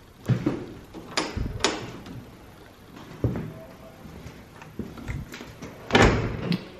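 A door opens and closes as someone leaves an apartment in Paris, with sharp clacks and thumps scattered over rustling and movement, ending in a louder slam.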